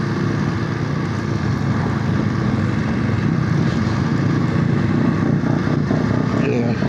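A loud Voge motorcycle engine drones close by, its revving a continuous broadband roar that keeps a fairly even level throughout without distinct rises.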